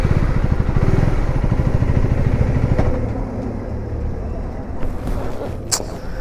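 A KTM Duke 390 motorcycle engine idles close by with a steady, dense rumble that falters partway through as it cuts out after a gear is engaged with the side stand down, with a faint click near the end.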